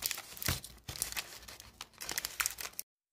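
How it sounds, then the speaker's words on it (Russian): A plastic package holding a tablet case is torn open, with sharp crinkling rips in several bursts close to the mic, no voices over it. "Теперь открываем основной пакетик."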